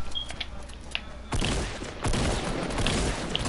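Rapid SMG gunfire bursts in a video game, two loud dense stretches of shots following a quieter opening.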